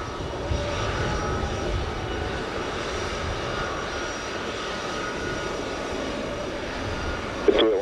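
Airplane engines roar at Montego Bay airport in Jamaica, a steady, loud, broadband rumble that holds throughout with little change. A brief sharp sound cuts in near the end.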